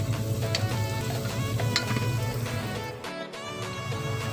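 Garlic and onion sizzle steadily in a hot pan while being stirred, a dense continuous frying crackle with periodic scraping knocks of the utensil against the pan.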